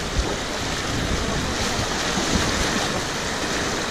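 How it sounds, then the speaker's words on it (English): Rushing river water surges around a kayak surfing a gentle standing wave on a river, a steady broadband roar of churning whitewater with some wind buffeting, close and continuous throughout without talk. "It's a nice easy wave to surf, it's lovely."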